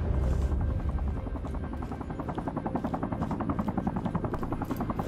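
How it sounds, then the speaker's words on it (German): A helicopter's rotor in Sniper: Ghost Warrior 3 thumps steadily in a rapid chopping rhythm, loud and close, holding a constant drone throughout. "Oh, jetzt kommt ein Hubschrauber."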